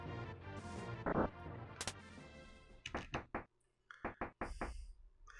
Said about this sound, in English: Knock, knock, knock, knock, knock, knock.